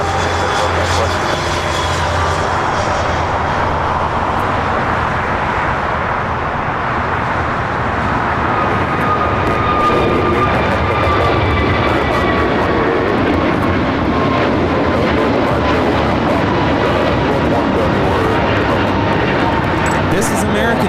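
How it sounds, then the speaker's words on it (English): An American Airlines Airbus A321neo takes off at LAX with a loud, sustained jet engine roar that builds and holds, with a rising whine layered on top, while someone talks over it. "This is American Airlines 2888 taking off to Chicago on the A321neo"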